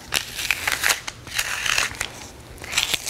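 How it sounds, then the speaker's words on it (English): Tape is peeled off a painted canvas in a kids' craft project, with a series of close, crisp tearing and crackling strips in irregular bursts and no talking. "So let's peel off the tape and see how it turned out."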